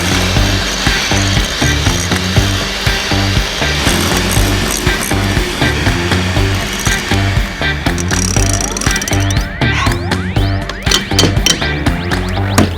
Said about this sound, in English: I want to whisk the yolks until they're thickened and about doubled in volume.